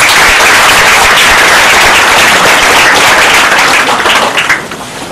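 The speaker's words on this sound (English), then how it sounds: "A round of applause." A crowd at a felicitation ceremony in Guwahati applauds loudly, a dense continuous roar of clapping close by that holds steady and then thins and fades near the end.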